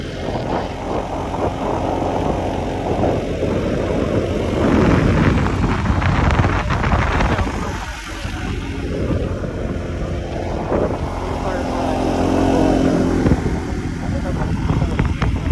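A Honda ADV 160 scooter carrying two riders of about 180 total pulls hard under acceleration in rain, its engine note rising and falling through steady wind rush, with brief voices in the clip.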